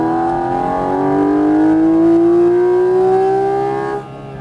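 A Porsche GT4 RS engine accelerating hard on a track, a loud steady climbing wail through one long gear that cuts off abruptly at the end, heard from inside the car without talk.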